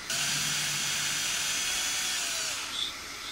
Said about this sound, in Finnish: Elikkä otetaan tää ruuvi irti,